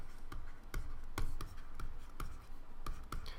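Chalk or marker writes on a board during a math lecture, producing rhythmic taps and short scratchy strokes, fairly faint and close, with no talking.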